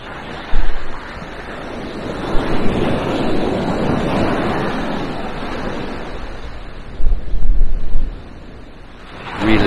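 Strong wind buffets the microphone at a pebble beach at West Bay, Bridport, making a loud rushing roar with gusty bursts, and surf adds to the blend.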